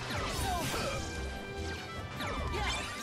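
Fruit balls are smashed in the Kingdom Hearts Birth by Sleep minigame, giving dense, repeated whacks and crashing impacts over busy game music.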